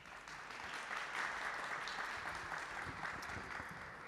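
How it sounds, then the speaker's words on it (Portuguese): An audience claps steadily for Professor Sérgio Vítor as he is called to the stage to moderate a panel on sanctioning administrative law and external control, with dense, even applause throughout. "Uma salva de palmas."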